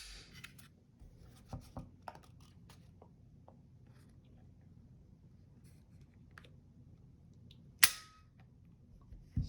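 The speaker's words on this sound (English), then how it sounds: "try the trigger pull on this sucker" Dry-fire trigger pull on a Springfield Armory Hellcat micro-compact pistol in FDE: a single sharp, close metallic snap near the end, preceded by faint small clicks and handling rubs.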